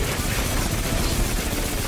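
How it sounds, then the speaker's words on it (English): Constant gunfire in the shooter game Destiny 2, a dense and loud unbroken volley of rapid shots filling the whole moment, with no pauses and no talking. "Who's shooting?"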